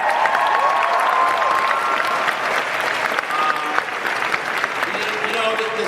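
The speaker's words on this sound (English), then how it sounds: "A big round of applause for Brett Dalton" A large convention-hall audience at a San Diego Comic-Con 2016 panel for Agents of S.H.I.E.L.D. breaks into sustained, loud applause with scattered cheers for actor Brett Dalton, with voices audible underneath.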